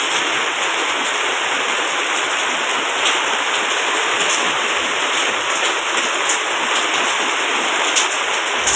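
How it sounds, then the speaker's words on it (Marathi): Heavy morning rain pours steadily outdoors, a dense, even hiss of water with no pauses, close and constant throughout. "आज मंगळवार आहे आणि आज सकाळपासून पाऊस पडतोय."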